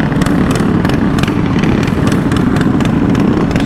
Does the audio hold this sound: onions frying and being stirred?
no